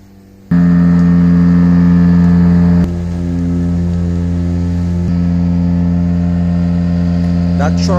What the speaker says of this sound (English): That truck is extracting human excrement out of a septic tank.